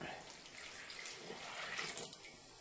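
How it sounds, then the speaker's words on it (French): Two cups of water are poured into a mixed batch of dry ingredients while making puppet dough, a faint, soft, steady splashing trickle over low room noise. "On rajoute nos 2 tasses d'eau."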